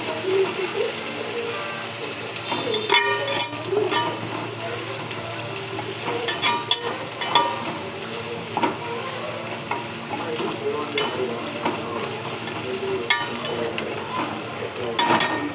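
Ginger and turmeric fry in a pan with a continuous close sizzle, while a spoon scrapes and clatters against the metal in irregular stirring strokes.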